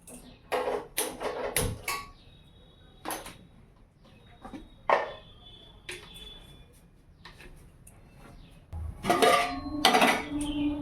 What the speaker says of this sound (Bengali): হাঁড়ি চাপিয়ে দিয়েছি উনুনে, আর জলও দিয়ে দিলাম।